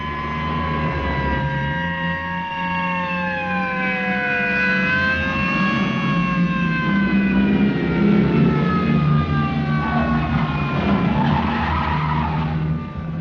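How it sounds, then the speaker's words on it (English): Several police sirens wail together with long rising and falling tones, loud and sustained, layered over a rumbling engine and tire noise. "You couldn't possibly be surprised with all those sirens blasting."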